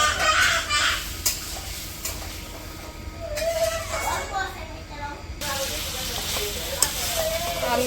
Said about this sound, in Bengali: আলু আর বেগুনটা এখন দিয়ে দিলাম